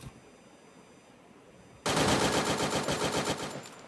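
Rapid automatic gunfire in the mobile game Free Fire Max bursts in after a quiet stretch, a loud, dense rattling stream of shots that continues to the end.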